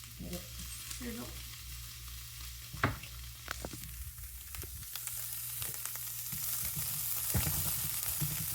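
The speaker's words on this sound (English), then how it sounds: "Get it to sizzle." Shallot and garlic sizzling in olive oil in a pan, a steady close crackle with scattered pops and a low hum beneath, growing slightly louder toward the end, no talking.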